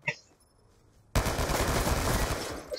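Gunfire in the shooter Black Ops 2 multiplayer: after a quiet moment, a sudden burst of rapid automatic shots erupts and keeps rattling loudly and densely to the end.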